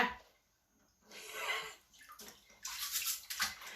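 Clams being washed and scrubbed in water by hand before cooking, with bursts of splashing, sloshing and rubbing that start after a quiet moment and grow busier and louder toward the end, close by.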